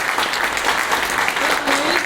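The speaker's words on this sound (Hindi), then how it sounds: "जेतू बहन बरवाड़ के लिए एक जोरदार ताली बजाइए" An audience claps loudly and steadily for Jetu Ben Barvad at a Gujarat network event, dense close applause filling the whole moment with a faint voice underneath.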